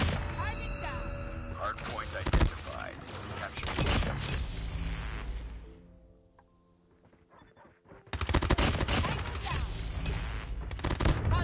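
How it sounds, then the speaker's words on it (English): Shotgun blasts and rapid gunfire crack loudly in a first-person shooter game, with dense bursts, a brief lull, then another heavy volley, while a player talks over the action. "Shotgun!"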